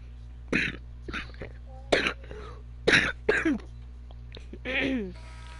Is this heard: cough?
yes